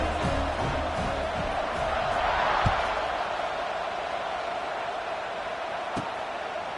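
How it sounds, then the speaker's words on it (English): Football stadium crowd in a college football video game, a broad, steady roaring buzz of many voices filling the space after a score, loud and continuous with a few faint thuds. "this crowd is buzzing after that last score"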